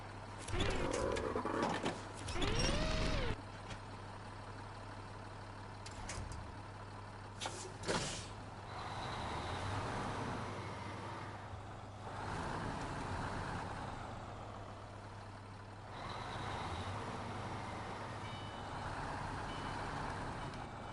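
A truck in the driving game Snowrunner reverses near an old sawmill, its repeated warning beeps sounding over a low, rumbling engine drone, with a few louder clunks and bursts early on; no voices.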